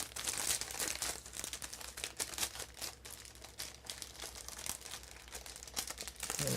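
Crinkling and tearing of plastic wrapping around a Bluetooth keyboard, close and steady, with rustling bursts throughout and no talking.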